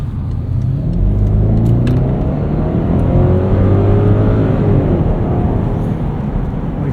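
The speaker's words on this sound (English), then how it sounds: "It actually sounds like a V8 instead of something weird." The 4.4-litre twin-turbo V8 of a 2013 BMW X5 xDrive50i (E70) pulls hard under steady acceleration, a loud, continuous deep engine rumble rising in pitch as it revs, heard from inside the cabin while driving.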